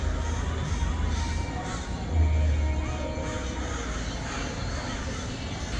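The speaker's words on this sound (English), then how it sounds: "Disney crows are a different breed of crow." Crows caw from pine trees at a Disney park during a Halloween party, harsh calls repeating over a murmuring crowd and background hum, with a louder low swell partway through.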